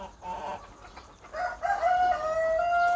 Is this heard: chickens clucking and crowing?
yes